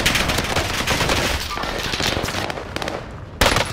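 Gunfire in a Call of Duty Rebirth match: rapid bursts of automatic weapon fire crack close and loud, dense and continuous, with a sharp new volley near the end.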